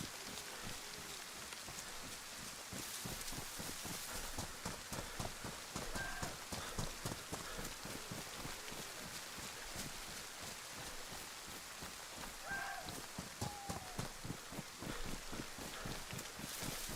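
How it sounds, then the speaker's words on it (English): Rain in DayZ patters softly and continuously, partly masked by a rapid, regular thudding of steps that runs throughout. "Could be the end of the rain, nearly."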